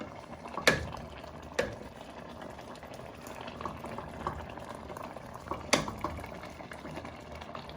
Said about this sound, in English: Now you want to add in your meatballs, your Mexican meatballs.